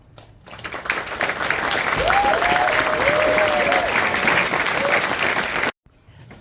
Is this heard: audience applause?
yes